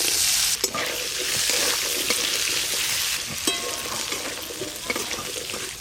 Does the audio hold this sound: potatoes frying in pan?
yes